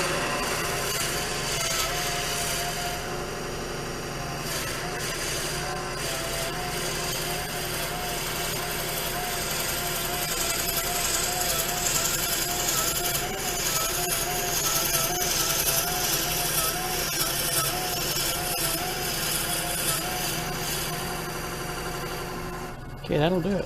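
A Rikon 70-220VSR midi lathe turns a salt and pepper mill blank while a bit bores into the wood, giving a steady, loud whirring grind with a scraping edge that holds for about twenty seconds before stopping abruptly.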